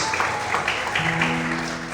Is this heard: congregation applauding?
yes